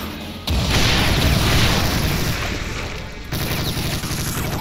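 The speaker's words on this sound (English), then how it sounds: "Oh, that's a huge explosion, man." A huge explosion in the Brutal Doom video game, a sudden loud boom that swells into a dense rumbling blast, followed by a brief drop and then continued heavy crackling combat noise.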